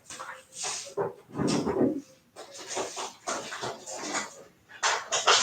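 A dog in a home kitchen barks and whines almost continuously in close, loud, uneven bursts with only short pauses.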